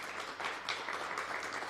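An audience claps together inside an aviation hangar, a steady wash of applause of moderate loudness continuing without pause.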